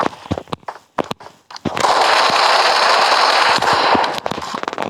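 Gunfire in the PUBG Mobile video game on the Livik map: scattered single sharp shots, then a sustained burst of rapid automatic fire for about two seconds, followed by more spaced shots, loud and close.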